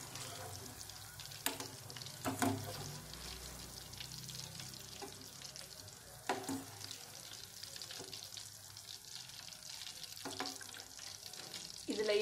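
Nendran banana chips fry in hot oil in a Tamil home kitchen, giving a continuous close sizzle with sharp crackles and pops scattered throughout and occasional stirring scrapes.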